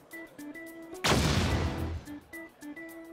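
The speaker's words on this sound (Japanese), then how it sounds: "爆発しちゃったわね。" A super ultra hammer invention in the Princess Connect Re:Dive video game blows up in one loud, roaring blast lasting about a second, set against light background music.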